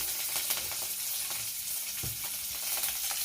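Mustard seeds and curry leaves sizzle and crackle steadily in hot oil, a dense close frying hiss with small pops throughout, no voices.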